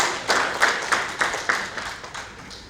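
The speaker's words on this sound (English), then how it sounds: "with loud applause, welcome Peninah Aheebwa to the stage" An audience at an oil and gas sector event greets a speaker with brief, light applause: a short run of separate, fairly close claps that fades after a couple of seconds.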